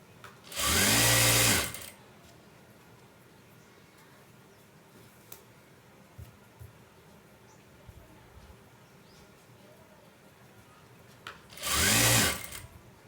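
A sewing machine stitches cut saree pieces together in two loud, steady bursts of whirring: one near the start and one near the end, with a quiet stretch between them.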